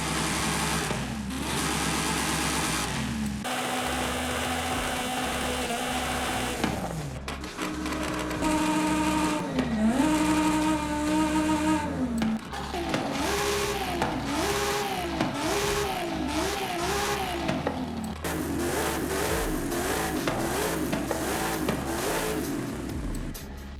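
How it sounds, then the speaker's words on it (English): A car engine in Forza Horizon 5 revs repeatedly, its tone rising and falling in quick cycles with a steady mechanical drone underneath, loud and continuous with no talking. "but with better and more noticeable engine sounds this time."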